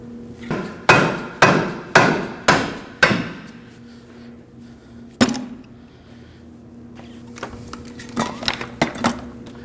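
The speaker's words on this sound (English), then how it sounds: "You might need to use a rubber mallet just to line it up with the hole." Rubber mallet knocking a rear suspension control arm into line with the knuckle bolt hole on a 2011-2012 Kia Optima: five quick, close, sharp taps, a lone blow after a pause, then a few lighter knocks.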